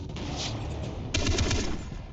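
Rapid bursts of gunfire in Far Cry 3 crackle over a steady background rumble, growing denser and louder midway through.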